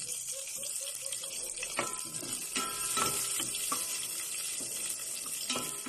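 Chopped onion sizzles as it hits hot oil in a cooking pot for chicken tinola, a steady frying hiss with scattered clinks and scrapes from a utensil.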